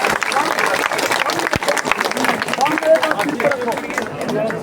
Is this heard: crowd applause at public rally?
yes